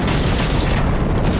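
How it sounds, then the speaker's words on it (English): Smoke bombs burst in a video game fight, a loud, dense, rumbling blast of noise that fills the short moment at close range with no talking. "Be careful, those are smoke bombs, dude."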